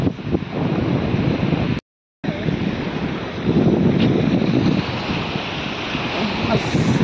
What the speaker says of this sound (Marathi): ह्या बघा, ह्या रेडीचा समुद्र.